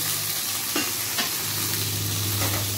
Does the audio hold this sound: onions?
yes